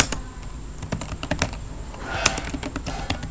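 Fingers type a short paragraph on a computer keyboard, a quick uneven patter of close plastic key clicks with occasional heavier strikes, continuous throughout without speech.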